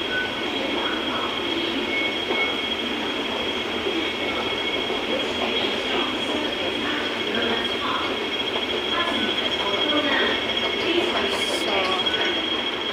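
An underground metro train in Hong Kong runs continuously from inside the car, with a steady rumble, a high wheel squeal and faint rhythmic clatter throughout.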